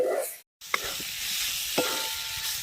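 Snail meat tipped into a well-fried spiced masala, oil already separated, sizzling steadily with a brief dropout, then a couple of soft spoon scrapes as it is stirred.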